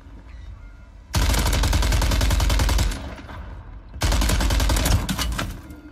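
Rapid automatic gunfire in Call of Duty Warzone, two loud sustained bursts of fast, evenly spaced shots separated by a short lull, with no talking.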